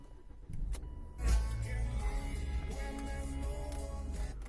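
A 2011 Volvo C30 R-line's five-cylinder turbo engine cranks briefly, catches with a loud low burst, then settles into a steady, close rumbling idle.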